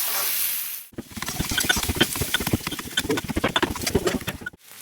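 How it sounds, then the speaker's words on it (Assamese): Onions frying in a pan until their water dries off and they brown, giving a close, busy crackle of dense sputtering pops with uneven swells, heard alone without talk. "পিঁয়াজৰ পানীখিনি যেতিয়ালৈকে শুকাই নাযায়, আমি ভাজি থাকিম।"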